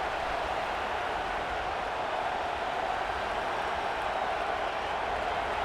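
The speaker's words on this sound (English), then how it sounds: "Oh, this crowd wants it." A packed stadium crowd at a Ball State vs Auburn game in College Football 26 roars, a constant, even wash of distant cheering that holds at a steady level throughout, with no clear voices on top.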